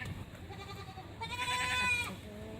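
A goat bleats nearby, a wavering cry in the second half, over faint outdoor background noise.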